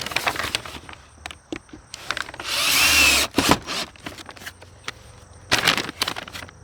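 Power drill driving screws to fasten plastic sheeting on a hinged double hoop house, with short bursts of whirring and one longer buzzing run near the middle, separated by clicks and handling noises close by.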